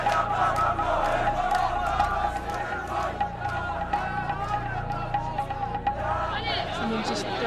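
Protest crowd in the Middle East shouting and yelling as stones are thrown at soldiers, a dense, continuous roar of many voices with scattered louder cries, close and steady throughout.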